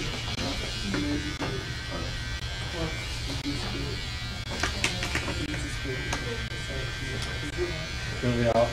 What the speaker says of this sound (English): when you're using these clippers, these neck trimmers, don't dig into the scalp